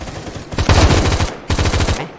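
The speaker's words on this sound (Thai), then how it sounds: "ผมยิงกำแพงนะครับ" Loud, close automatic gunfire in the Roblox shooter Phantom Forces as shots hit a wall: two rapid bursts of rattling shots separated by a short pause.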